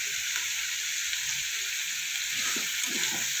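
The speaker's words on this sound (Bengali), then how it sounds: "পেঁয়াজটা নরম হয়ে যাবে, তাড়াতাড়ি ভাজা হয়ে যাবে" Onions sizzle steadily in hot oil with salt, a continuous frying hiss with faint stirring near the end.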